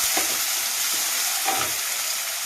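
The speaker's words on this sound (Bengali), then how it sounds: "এবার দিয়ে দেবো টমেটো কুচিগুলো টমেটো কুচিগুলো এর মধ্যে দিয়ে ফ্রাই করতে থাকবো" Chopped tomatoes stirred into onions already fried light golden brown in a pan for a chickpea bhuna, a dense continuous sizzle with a few soft scraping stirs, close and loud.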